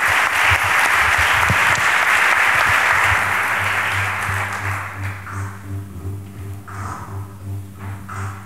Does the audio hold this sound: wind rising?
no